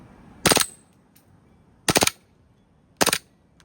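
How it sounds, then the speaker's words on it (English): An airsoft Glock 18C gas blowback pistol, soaked with water, fires on full auto in three short, sharp bursts, each a rapid rattle of shots with quiet pauses between, loud and close with no voices. "We'll try to shoot in between that. Woo, full auto."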